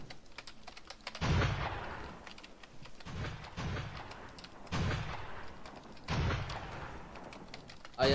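Ship cannon fire in the Deepwoken game comes as several heavy booming blasts spaced a second or two apart, each with a rolling tail, mixed with clicky keyboard typing close by.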